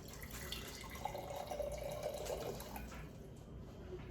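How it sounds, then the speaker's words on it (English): Water pouring from a jar into chicken pot pie filling in a home kitchen, a faint, soft trickle and splash that runs steadily for several seconds under low room noise. "So I'm going to just add a little bit of water."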